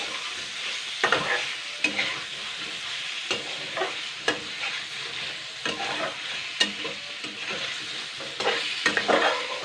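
Chicken pulao made from leftover rice is stirred and fried in a pan, with a spoon scraping in repeated strokes over a steady sizzle, fairly close and loud, no talking.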